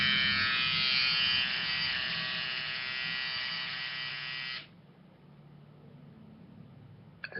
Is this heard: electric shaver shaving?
yes